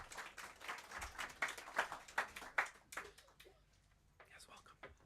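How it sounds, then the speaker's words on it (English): A small audience claps to welcome a woman to the stage at a memoir writers' event. The applause is fairly faint and dense at first, then thins out and fades, with soft voices at the end. "Let's give her a round of applause, please."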